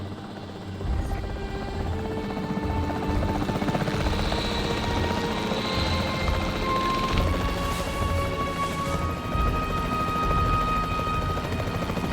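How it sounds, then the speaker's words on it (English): Capture team helicopter in the video game Jurassic World Evolution 3, a steady, loud, continuous rotor thrum and engine whine holding close throughout, alone without talking. "The priority needs to be tranquilizing it with the capture team chopper."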